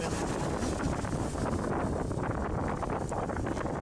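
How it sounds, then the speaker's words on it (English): Strong beach wind, around 30 miles an hour, pounding the microphone with a continuous dense roar and rumble from start to finish, loud and close. "That has got to be a 30 mile an hour wind."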